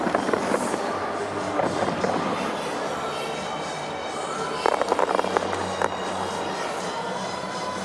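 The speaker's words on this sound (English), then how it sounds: "there's our daily fireworks display" Fireworks go off over Scotstoun Stadium in Glasgow during an evening athletics session, with a busier burst of crackling pops midway through, all under continuous commentary and crowd ambience.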